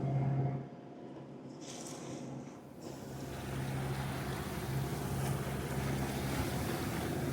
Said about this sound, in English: we are motoring in massive swell